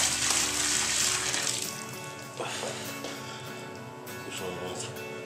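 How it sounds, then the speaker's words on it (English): Hot water is poured over the lid of a malt extract can for a stout brew, a close, steady splashing and trickling that tapers off into smaller drips and pours. "I'm going to pour it over the lid so it gets"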